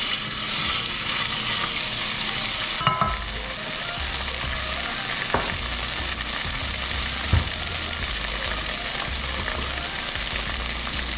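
Garlic fries in a hot pan with a steady, close sizzle and crackle that runs throughout, broken by a few stirring scrapes and clacks, and no one speaks.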